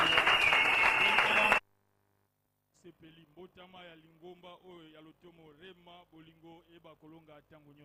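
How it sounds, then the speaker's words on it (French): An audience at a church broadcast bursts into dense, loud applause that cuts off abruptly after about a second and a half, then a voice speaks over quieter background sound. "Acclamons très fort."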